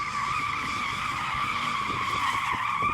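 A car's front tyre squeals and skids as the driver attempts a drift, a loud, steady, unbroken screech lasting the whole stretch with engine noise beneath.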